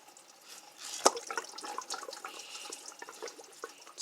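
Coolant from the water pump of a 2010 Cadillac CTS 3.0L splashes and trickles into a drain pan, opening with a sharp splash and then a steady, close, irregular pour with no talk.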